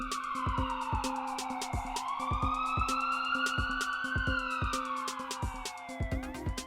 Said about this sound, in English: An ambulance brought in a patient from somewhere